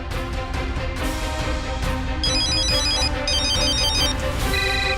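An outgoing phone call rings on unanswered, a loud, steady, repeating ringtone pattern that keeps cycling without interruption or talk.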